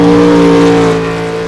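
An ARCA Series race car engine fires back up on the start-finish line at Daytona, a loud, close, steady mechanical drone that eases slightly toward the end, heard alone without talk.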